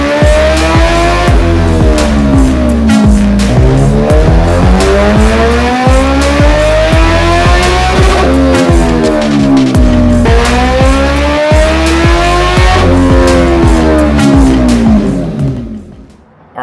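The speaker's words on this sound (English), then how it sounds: "let's warm this bad boy up, and let's do some more pulls" A 2023 Suzuki Hayabusa with cams in proper time screams through dyno pulls, its engine rising loud in pitch, dropping back and climbing again at full throttle before cutting off at the end.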